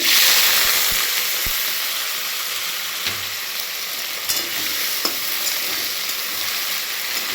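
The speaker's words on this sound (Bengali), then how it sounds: "আলুগুলো ভালো করে লাল লাল করে ভেজে নেব।" Potatoes frying in hot oil until reddish for a banana-flower dish, a dense continuous sizzle up close with occasional soft spoon knocks and scrapes against the pan.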